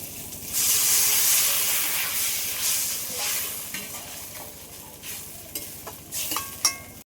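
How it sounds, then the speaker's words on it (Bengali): Chicken pieces fry in a hot pan, a loud, continuous sizzle and steamy hiss with occasional stirring scrapes near the end, close up and without talk. "একটু লাল লাল করে ভেজে নিয়েছি"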